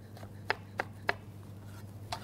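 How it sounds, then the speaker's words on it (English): Knife slicing through a jalapeno on a cutting board in a kitchen, three crisp chopping taps about a third of a second apart, then a fourth after a pause, close and fairly quiet over a steady low hum. "My jalapeno I'll slice."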